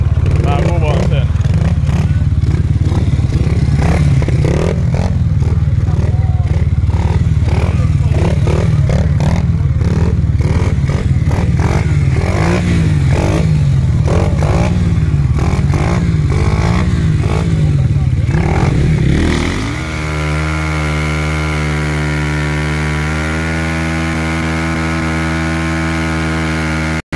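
Mopeds rev and ride close by for about twenty seconds, a loud, buzzing, rattling engine drone that rises and falls. The sound then shifts abruptly to a steadier, tonal hum.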